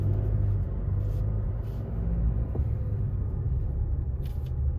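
A car in four-wheel drive rumbles along a rough unpaved track toward Makalawena Beach on Hawaii's Big Island, a steady low engine drone with faint scrapes and bumps throughout.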